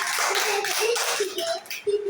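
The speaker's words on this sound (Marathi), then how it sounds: "व्हेरी गुड टाळ्या वाजवा" Young children in a classroom clap together in quick bursts of applause, with a voice faintly mixed in.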